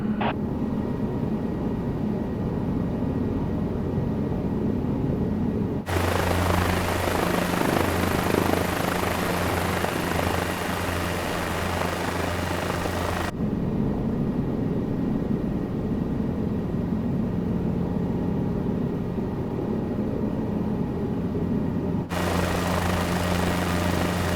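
A hovering helicopter in Microsoft Flight Simulator 2024, its rotor and engine producing a steady, loud droning whir that continues without a break, the tone shifting abruptly in sections as the sound changes.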